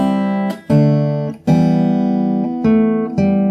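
Fingerstyle acoustic guitar playing the opening three chords of a song's verse, several plucked chords struck in steady succession, each ringing clearly and close before the next, with no voice over them.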